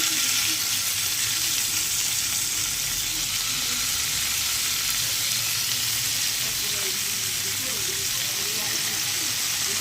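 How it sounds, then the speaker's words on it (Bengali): Marinated chicken frying in butter in a frying pan gives a steady, loud, dense sizzle throughout, with faint background voices. "ফ্রাই প্যানে আমি সামান্য বাটার বুলিয়ে দিয়ে সেটা অল্প অল্প করে"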